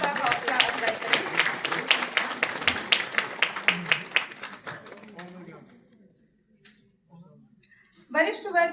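Audience at a World Hindi Day speech competition applauding the student winners, a burst of dense clapping that thins out and dies away, with a voice briefly speaking after it.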